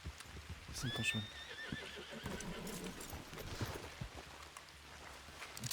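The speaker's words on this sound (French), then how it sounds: "C'est ton cheval." A horse in the Red Dead video game gives a clear whinny near the start, then hooves clip-clop at a walk, fairly close, with faint voices in the background.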